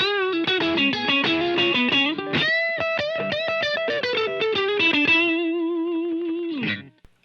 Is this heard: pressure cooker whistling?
no